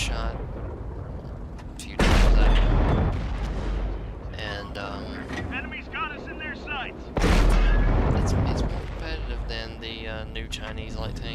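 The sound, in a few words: tank cannon shot in the video game World of Tanks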